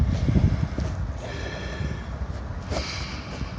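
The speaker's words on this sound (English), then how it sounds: "Alright, it's a little windy." Gusty wind buffets the microphone outdoors during a car oil change, with low rumbling bursts, loudest at the start, over faint background noise.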